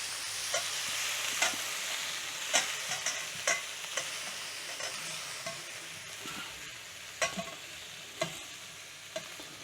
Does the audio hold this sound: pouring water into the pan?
no